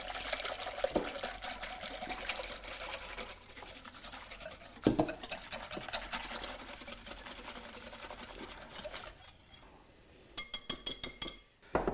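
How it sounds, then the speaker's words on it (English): Egg yolks and sherry are whisked for eggnog with a rapid, steady rattling of the whisk against the bowl and occasional sharper clinks, the beating speeding into brisk bursts near the end, with no talking over it. "So I'm going to give that a good whisk up"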